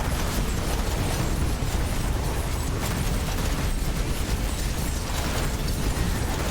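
Dense, continuous rumbling bursts of explosions from Suction Bomb attacks in the video game Soulstone Survivors, loud and unbroken, layered with mechanical clatter throughout.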